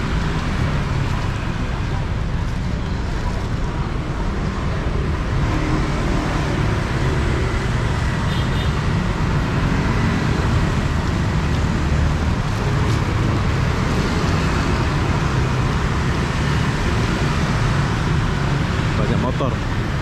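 Busy morning street traffic in Ho Chi Minh City, Vietnam, near a bus terminal, with many motorbikes. A steady, dense roar of engines runs throughout without letup, and there is no clear talk.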